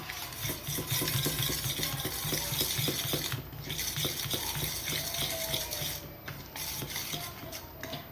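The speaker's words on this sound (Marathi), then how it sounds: "छान असं ढवळून घ्यायचं" A spoon stirs besan batter with water in a bowl, giving steady, rhythmic scraping and clinking strokes, close and fairly quiet, with no talking.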